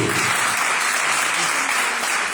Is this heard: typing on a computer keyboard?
no